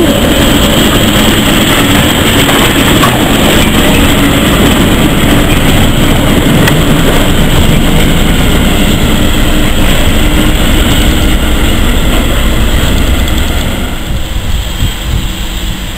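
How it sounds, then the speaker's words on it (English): A diesel locomotive rumbles past close by on the North Norfolk Railway, a steady heavy low drone with rattling wagons that continues throughout and eases slightly at the end. "There goes the diesel."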